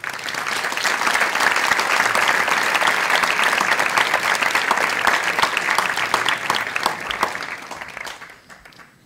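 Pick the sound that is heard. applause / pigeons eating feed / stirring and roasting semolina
applause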